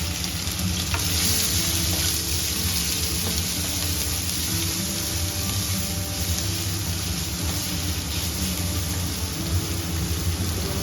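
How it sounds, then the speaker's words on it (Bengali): Onions sizzling in about five spoonfuls of hot oil in a wok for aloo paratha filling, a steady dense frying hiss with faint stirring, no talking. "এখন আমি আলু যে মাখবো তার পেঁয়াজটা ভেজে নেব"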